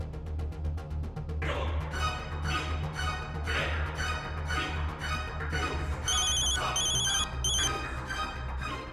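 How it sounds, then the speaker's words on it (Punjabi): An outgoing phone call rings repeatedly in a Punjabi TV drama: a steady, evenly spaced ringing tone sits over a low background music bed, with no voices. "ਚੱਲ ਇੱਕ ਵਾਰ ਫੋਨ ਕਰਕੇ ਵੇਖਦੀ ਹਾਂ।"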